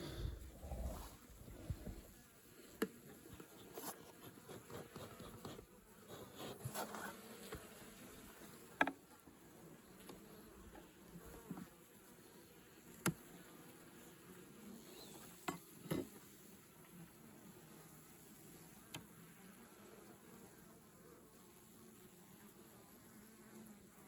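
Honey bees hum softly around an opened hive frame during a winter inspection, a low continuous drone with faint scattered ticks and knocks from handling the frames.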